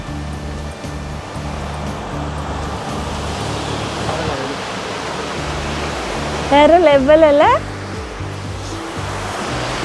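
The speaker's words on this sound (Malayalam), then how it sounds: "ഇത് താഴെ ഇങ്ങനെ വെള്ളച്ചാട്ടം ഒഴുകി പോകുന്നത് നമുക്ക് കാണാം" Waterfall flowing below a resort viewpoint at Parakkat Nature Resort in Munnar, Kerala, a constant broad rushing wash of water, with a low hum beneath and a short excited spoken remark partway through.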